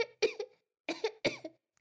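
Three short coughs in quick succession, close and fairly loud, with a brief pause after the first.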